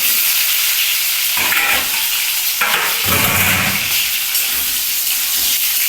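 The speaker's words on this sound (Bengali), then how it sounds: "আমি আলুটাকে একটু হালকা ভেজে নিচ্ছি" Potatoes fry lightly in a pan with oil and green chillies, a bright steady sizzle broken by scraping stirs of a spatula, loud and close with no talk.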